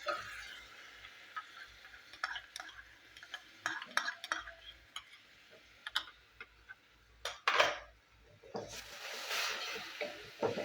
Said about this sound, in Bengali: তো টমেটোর পেস্টও আমি একটু ভালো করে কষিয়ে নেবো মশলার সাথে।